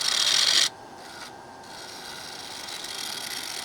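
A woodturning tool cuts against the rim of a spinning wooden bowl on a lathe, a loud, harsh hissing scrape for under a second, followed by a quieter steady whir of the turning wood.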